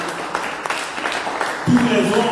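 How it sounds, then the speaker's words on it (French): Congregation at a Sunday church service clapping hands, a loose crowd patter that thickens toward the end, mixed with loud speech over the top. "Clap your hands."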